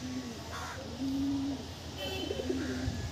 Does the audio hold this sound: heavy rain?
no